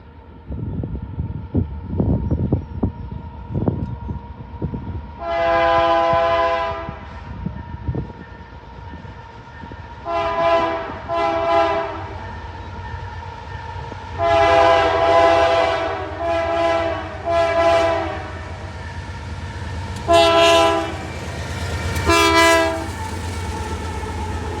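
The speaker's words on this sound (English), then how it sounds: "we saw a train visible that was heading westbound towards Millbury, where we were just at. This train was an as-needed ethanol" A westbound ethanol freight train rolls past on a former New York Central main line near Millbury, Ohio, loudly sounding its horn in a long and short sequence over the steady rumble and clatter of the cars.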